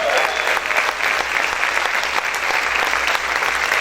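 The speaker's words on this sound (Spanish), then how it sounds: "Vamos a aplaudir fuerte al Rey de Gloria." A church congregation clapping hard for God during a Spanish-language sermon, a loud, sustained burst of many hands, thick and continuous, with a low hum beneath.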